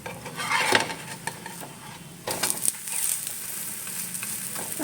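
Milagu adai, a pepper adai, sizzles and fries steadily on a hot pan, with louder bursts of crackling and a few scraping stirs or flips of a spatula, close and continuous throughout.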